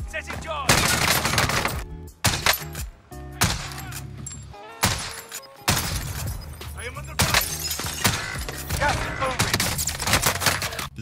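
Heavy MG34 machine-gun fire from a Call of Duty: Warzone match, with loud bursts and single shots broken by short pauses, layered over game music and effects.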